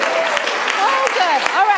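Improv show audience clapping together in a brief, loud burst of applause close by, with a voice speaking over it.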